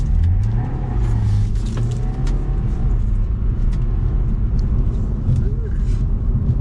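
A BMW G20 3 Series engine growls and revs steadily up close while drifting, its pitch rising and falling as tyres rumble beneath, with occasional voices murmuring over the drone.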